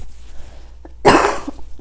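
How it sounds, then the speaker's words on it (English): A single loud cough bursts out close by after a quiet room, short and harsh with a brief tail. "I'm gonna cough."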